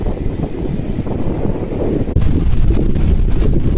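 Strong wind at Ladghar beach in Dapoli buffets the microphone with a loud, continuous rushing roar that grows heavier halfway through.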